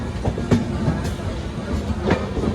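The 12639 Brindavan Express pulling out of Walajah Road station: rhythmic clickety-clack of wheels over rail joints with a rumbling carriage roar, close and steady, punctuated by a few sharp metallic knocks.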